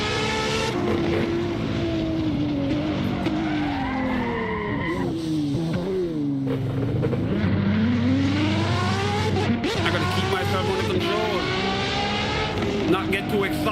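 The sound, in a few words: race car engine at high RPM in video game Assetto Corsa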